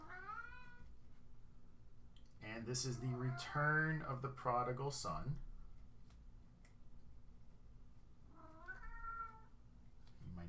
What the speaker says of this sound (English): You might be able to hear my cat in the background here.